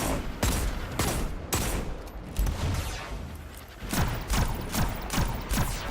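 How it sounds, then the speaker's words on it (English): Rapid hand cannon gunfire in the shooter game Destiny 2, a steady run of sharp, loud shots fired in quick succession over a busy game soundscape, with no talk. "It's pretty hard hitting hand cannon this."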